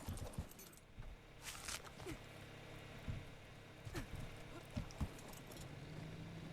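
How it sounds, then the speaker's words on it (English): Quiet, irregular hoof clops from a horse walking in the video game Ark: Survival Ascended (Scorched Earth) sound over a faint ambient hum, spaced unevenly, with a brief jingling rattle in between. "the sounds of like the horse hooves are just like so incredibly satisfying"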